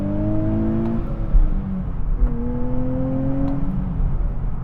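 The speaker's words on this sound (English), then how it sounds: "that was much better with the rev matching on the upshifts" A 2025 Nissan Z with a manual gearbox pulls through upshifts, its engine note rising in pitch, dropping briefly at each shift and climbing again, steady and fairly close with no talking.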